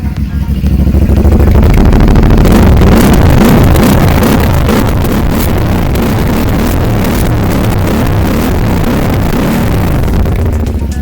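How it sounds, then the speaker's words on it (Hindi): A CF Moto MT 450 adventure touring motorcycle engine runs loudly and steadily up close, its exhaust rumbling and revving with rough, blustery noise throughout. "बाइक का आपको एक छोटा सा साउंड टेस्ट भी देते हैं।"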